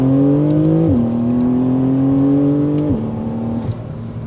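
Porsche 992 Carrera S flat-six with a PDK gearbox, in stock tune, accelerates hard, the engine note rising steadily through two quick gear changes, loud and close, with no talking.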